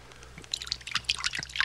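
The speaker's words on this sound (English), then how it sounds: "Here, I'll pour you a real good drink." A drink being poured from a bottle into a glass, with close trickling and splashing liquid, then a few drips and clinks.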